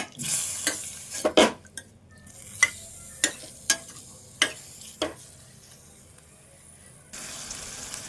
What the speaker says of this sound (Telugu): ఇప్పుడు కొంచెం ఇది ఫ్రై చేసుకోవాలి దగ్గర.